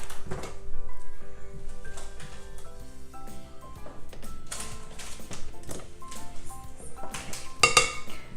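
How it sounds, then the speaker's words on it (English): A spatula or spoon scrapes around the sides of a pot of garlic mashed potatoes on a stovetop, giving repeated close metallic scrapes and clinks at an uneven rhythm, with faint kitchen background. "Just scrape the sides down."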